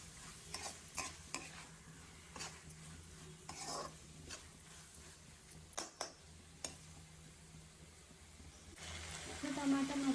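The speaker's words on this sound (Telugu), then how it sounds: "టమాటాలు మంచిగా సాఫ్ట్ అయ్యేంత వరకు కలుపుకొని 5 minutes అట్లా వదిలేసేయాలి" Tomatoes are stirred in a curry pan, with repeated soft scrapes and clinks of a spoon against the pan over a quiet sizzle, close by and fairly faint.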